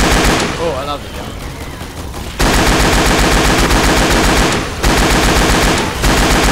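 Rapid automatic gunfire from the video game Left 4 Dead 2 roars loud and sustained in long bursts, with a brief pause near the start and a short break mid-clip.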